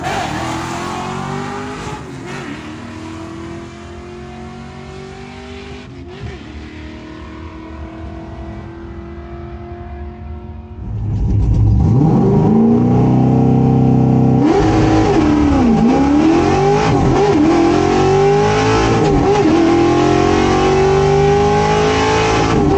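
A 1968 Ford Torino drag car launches and pulls through its gears, the engine note climbing and falling with each shift before surging much louder and harsher as it passes close, roaring continuously to the end.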